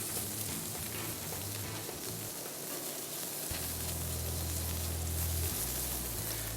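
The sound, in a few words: bacon sizzling on a hot grill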